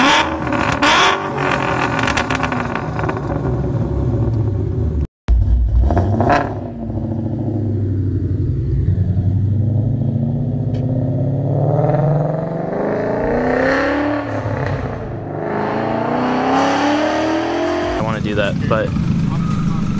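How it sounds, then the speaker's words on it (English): A deep Ford 5.0 V8 engine with Flowmaster exhaust revs repeatedly, rising and falling in pitch, with people talking over and between the revs. "A lot of people don't like Flowmasters, but this setup sounds really good"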